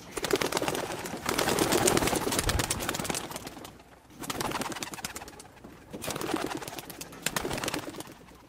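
Pigeons coo softly while the flock takes off and flies in loops, wings flapping in repeated bursts of rustling that rise and fall over several seconds, moderately near and without talk.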